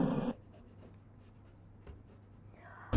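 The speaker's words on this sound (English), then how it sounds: "I'm going to outline the side seam in order for you to see everything clearly" A marker or chalk scratches briefly across fabric while a side seam is outlined on a draped skirt, a soft faint drawing sound between quiet gaps, with a louder rustle at the start and end.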